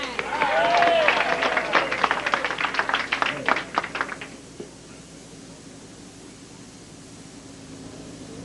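A small studio audience at a 1988 televised bowling show claps for a female bowler in a brief burst that fades after about four seconds, leaving quiet room tone, with a voice heard over the start.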